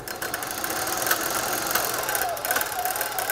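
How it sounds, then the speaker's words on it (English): A homemade bicycle generator built from a car alternator whirs steadily as it is pedaled, a continuous mechanical hum with faint rising tones under light talk. "then that'll get the alternator to start charging"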